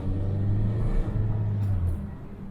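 A 2014 Chevy Sonic 1.8L engine with lean and stalling codes idles close by, a steady low droning hum with a slight dip in pitch partway through and no talking.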